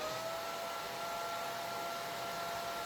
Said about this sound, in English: We will hit it with the hairdryer just to make sure.